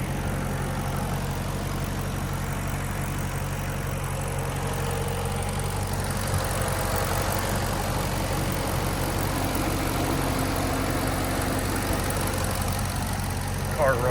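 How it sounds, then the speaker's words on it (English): A Maserati's engine idles steadily and smoothly in its engine bay, a constant low hum lasting the whole stretch with no ticks or stumbles, close by and moderately loud. "It idles dead smooth."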